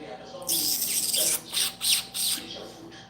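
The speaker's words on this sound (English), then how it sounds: "I hear a bird." Birds squawk and chirp in loud, bright bursts, several calls close together and then a few separated ones, with faint voices in the background.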